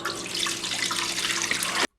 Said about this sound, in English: I'm gonna fill it in with water